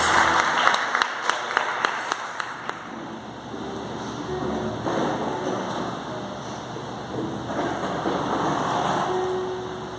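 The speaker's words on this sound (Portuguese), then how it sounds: "Dê um aplauso para Jesus e pode sentar" Broad, steady congregation applause fills a church service, a wash of many hands clapping with a few sharper claps early on, continuing throughout without a break.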